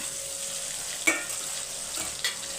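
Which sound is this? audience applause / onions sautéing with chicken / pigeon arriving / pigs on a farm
onions sautéing with chicken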